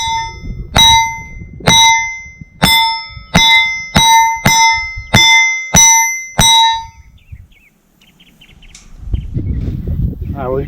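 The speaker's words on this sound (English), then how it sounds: "I'll take some shots." Nine sharp shots from a Volquartsen Black Mamba pistol ring off steel plates at a Steel Challenge practice, loud evenly spaced cracks each followed by a bright ringing clang, then quiet and low rumbling noise.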